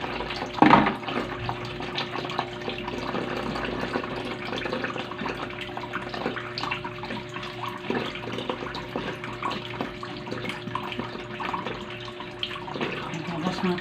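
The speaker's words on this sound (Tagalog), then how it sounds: "Maghugas tayo ng hugasin guys." Tap water runs steadily into a kitchen sink during dishwashing, a continuous broadband splash with occasional clinks, moderately close and without speech.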